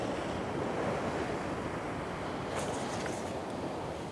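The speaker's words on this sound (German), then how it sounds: "Über Nacht hat sich der Sturm gelegt. Aber das Wasser an der Küste ist noch sehr aufgewühlt und trübe." Rough, churned surf pounds the North Sea coast at Norderney after a storm, a loud continuous roar of waves with heavy wind buffeting the microphone.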